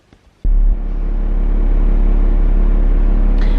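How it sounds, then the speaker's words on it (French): A camper truck's engine cranks and catches after a brief quiet moment, then settles into a loud, steady idling rumble that continues close by to the end. "Ça fait vraiment bizarre de revoir le camion démarrer."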